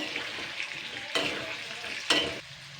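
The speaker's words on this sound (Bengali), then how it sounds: "এবার আমি এতে হালকা নুন আর হলুদ গুঁড়ো দিচ্ছি এটা দিয়ে নুন আর হলুদটা দিয়ে আমি আবারও ভালো করে এবারে ফ্রাই করে নেব" Potato pieces frying with salt and turmeric for a drumstick and potato curry, a soft continuous sizzle with two distinct scraping stirs of a spatula, close and alone without voices.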